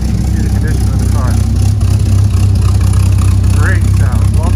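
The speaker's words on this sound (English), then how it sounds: "Great sound, love that exhaust note." A 2004 Dodge Viper SRT-10 Mamba edition with a six-speed idles steadily, its deep exhaust rumble loud and close, while someone speaks over it.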